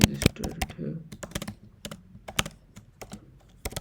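Close-up computer keyboard typing as Java code is entered, a quick, irregular patter of crisp key clicks with brief pauses and a few louder taps.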